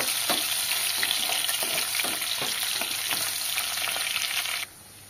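Chopped shallots fry in a pan with a constant sizzling hiss and a few stirring scrapes, cutting off abruptly near the end.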